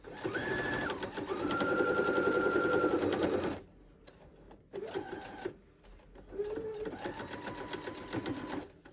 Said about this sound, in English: just line that up with my binding and sew along